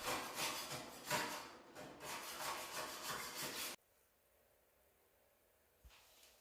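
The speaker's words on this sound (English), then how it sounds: "I spent a lot of time scraping the tub" Scraper dragged across a paint-coated fiberglass tub, a steady run of close rasping strokes lasting about four seconds, then near silence with one small knock.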